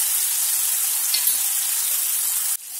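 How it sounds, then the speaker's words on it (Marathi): Tomatoes cook over a low flame in a steady, close hiss of sizzling, with a brief shift near the end as the sound drops and resumes. "टमाटर व्यवस्थित आता शिजेपर्यंत त्याला कमी फ्लेमवरती आपण छान एकजीव शिजवून घेऊया।"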